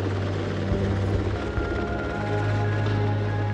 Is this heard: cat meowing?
no